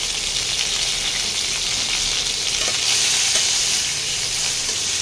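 Pointed gourds (potol) frying in hot oil with a little salt and turmeric, giving a loud, dense, continuous hiss and crackle up close, steady throughout with no talking.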